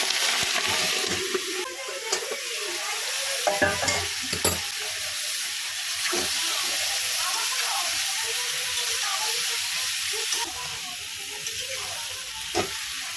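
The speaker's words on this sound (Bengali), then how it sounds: "মাছগুলো আমি সব ভেজে নেবো দেখো বন্ধুরা" Giant freshwater prawns fry in hot oil in a wok with a continuous, loud, close sizzle, broken now and then by light clinks and scrapes of a utensil, with no talking.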